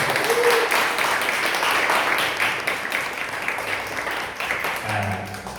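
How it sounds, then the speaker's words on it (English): A crowd claps in sustained applause, dense and steady, fading slightly toward the end. "Give a big round of applause for all of you guys."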